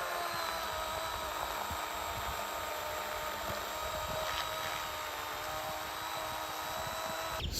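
A chainsaw mill cutting a redwood log into slabs drones steadily at a constant pitch, the engine's continuous whine holding under load without pause for several seconds.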